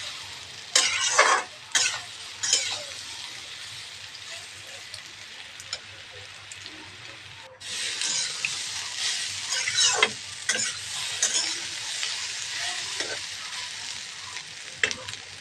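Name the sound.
frying soybean chunks in a pan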